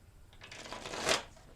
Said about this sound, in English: I'm going to give it 3 more shuffles